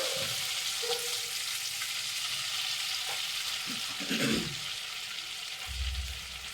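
Whole garam masala spices sizzling in melted butter in a pan, a steady close frying hiss with a few light clinks and stirring scrapes.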